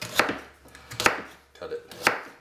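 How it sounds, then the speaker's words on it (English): Knife chopping through a watermelon from the bottom side for melon soup: three crisp, evenly spaced cuts, close and fairly loud, with no talking. "So I cut it from the bottom side."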